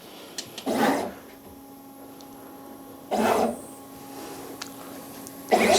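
A pick-and-place machine moving its nozzle to pick a part, with three short motor whirs spaced a few seconds apart over a steady background hum.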